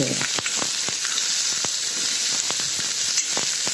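Onion frying in a pan, a steady close sizzle and hiss of hot oil throughout, punctuated by occasional soft scrapes and taps of stirring, with no voice.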